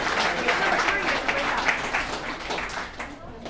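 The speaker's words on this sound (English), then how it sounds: "Let's give David a round of applause." Applause from an audience at an alumni recovery meeting, a short burst of clapping that fades toward the end, with some talk.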